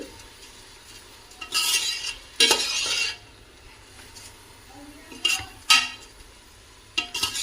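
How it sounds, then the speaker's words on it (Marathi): Rice being stir-fried in oil in a pot for pulao, with bursts of scraping and clattering from stirring separated by quieter stretches of low background noise. "fry rice in the oil for हां हां थोडं आपण त्या तेलामध्ये थोडं परतवून घ्यायचं"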